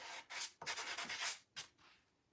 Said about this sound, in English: we'll just give it a little sandy sand